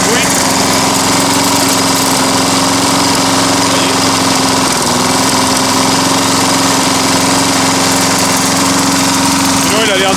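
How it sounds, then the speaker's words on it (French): Briggs-style Intek small engine idling with the engine brake disengaged and occasional slight misfires, a loud continuous mechanical drone with steady hum and rattling vibration close to the machine. "il a l'air de tourner correctement pour un Intech. Il fait des petits ratés"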